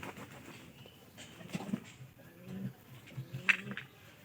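Pigeons cooing in a loft, soft repeated low coos with occasional wing flutters and light shuffling, fairly close and moderately quiet.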